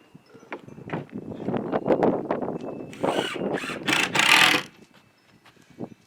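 Screws being driven down into the four corners of a wooden skateboard grind box, a rapid series of close, loud mechanical clicks and whirring bursts, with a few louder, sharper screeches midway before it tails off.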